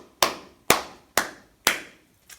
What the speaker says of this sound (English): Clap 5 times.